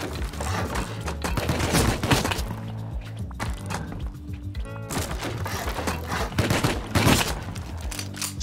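Rapid bursts of Rust gunfire hit a player base, sharp cracking shots repeating in uneven clusters with impact thwacks and a low droning bed beneath, loud and close throughout.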